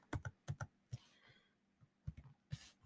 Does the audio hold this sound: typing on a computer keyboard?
yes